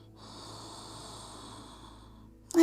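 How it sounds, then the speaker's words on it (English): Slow, steady breathing during yoga practice, a soft drawn-out breath heard close and alone, ending with a brief louder noise. "And breathing."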